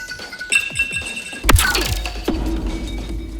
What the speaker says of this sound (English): Here you can see the physics simulation of the shell bouncing.